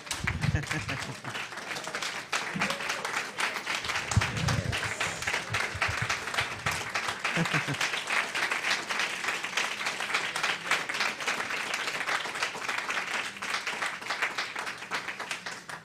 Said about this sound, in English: Can we please give Mara another round of applause?